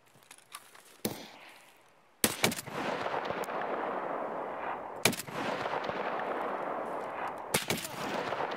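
Gunfire in the video game Escape From Tarkov: several sharp shots crack out, one early then bursts near the two-, five- and seven-and-a-half-second marks, between stretches of rushing background noise.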